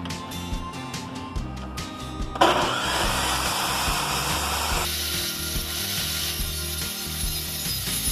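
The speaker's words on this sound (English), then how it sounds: "I'm going to cut a chamfer on this side of the piece, kind of like that." Wooden trim piece being chamfered with a cutting tool, a rough rasping, grinding cut running steadily and fairly loud after a few quieter rhythmic strokes, close by with no talk.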